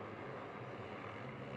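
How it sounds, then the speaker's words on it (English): Racing motorcycles on a watered race track during a championship race in Ukraine, a steady, distant engine drone that hums without clear breaks, faint and continuous. "Every time you hear the noise of the riding motorcycle"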